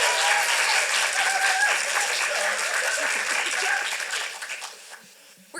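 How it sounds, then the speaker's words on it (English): A festival audience applauds a young playwright after a cold reading, loud sustained clapping with a few voices and chuckles mixed in, then tapering off near the end. "Let's give Cassifer a round of applause."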